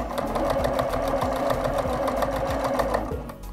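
A sewing machine stitches quilt-as-you-go quilted coasters with a fast, even mechanical whirr and rapid needle ticking, running continuously and close up with a brief slowdown near the end.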